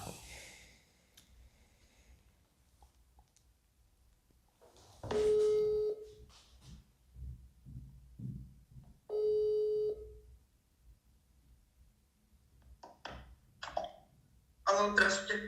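A telephone call to a mother rings out: two long, steady ringback tones a few seconds apart, fairly clear, with faint voices and small noises in between and a burst of sound at the end.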